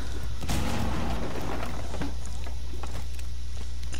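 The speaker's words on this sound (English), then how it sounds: "Grenade!" A grenade blast in the tactical shooter Rainbow Six, a loud boom near the start that rolls off into rumbling debris and scattered follow-up thuds, with faint gameplay noise beneath.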